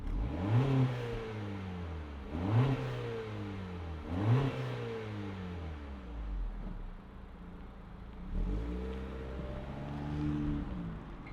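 A 2026 Acura Integra A-Spec engine fires up and revs repeatedly, several rising roars dropping back to idle, then a longer rev near the end, close and loud.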